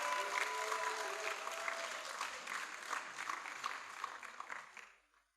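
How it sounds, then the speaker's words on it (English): A graduation ceremony audience applauds graduates at a preparatory school, with sustained clapping from a large crowd that fades out toward the end. "Give them a big round of applause."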